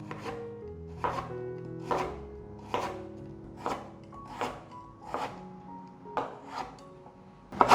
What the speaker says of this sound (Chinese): 准备1/3条的红萝卜切片